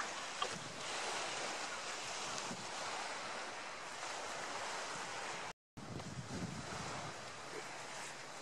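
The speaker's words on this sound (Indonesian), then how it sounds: "kita akan melewati sedikit bagian dari pantai Pulau Miyajima" Steady surf washes continuously onto a beach on Miyajima Island, Japan, mixed with wind buffeting the microphone, with one brief dropout partway through.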